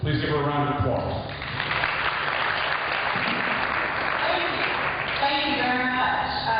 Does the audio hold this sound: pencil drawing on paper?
no